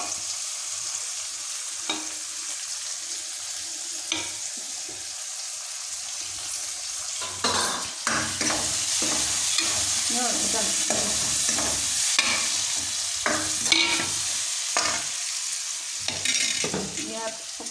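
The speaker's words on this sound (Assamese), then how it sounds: "এইখিনি মছলা পিঁয়াজ ৰঙচুৱা হোৱালৈকে অলপ দেৰি ভাজিম।" Spices and onions fry in hot oil for a fish curry with gourd, giving a continuous close sizzle broken by repeated stirring and scraping clatters, with no talk.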